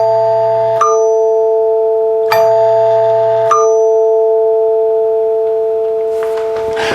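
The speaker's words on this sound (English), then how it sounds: "when you release the button, the third one on the left" A NuTone L37 chord note door chime rings out: bright resonant tone-bar strikes at about one, two and a half and three and a half seconds, the last being the third bar sounding on button release, each ringing on with a sustained hum beneath.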